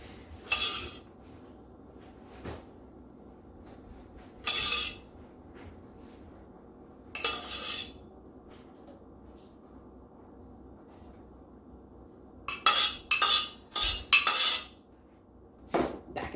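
Ribs get basted in a pan with metal utensils, a few scattered scraping clinks against the pan amid quiet background hum, then a denser cluster of clatters near the end.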